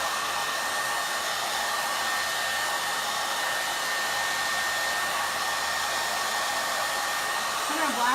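A blower pushes a strong stream of cool air across a chalk-paint transfer, holding one loud, steady rushing whoosh for the whole stretch with no speech.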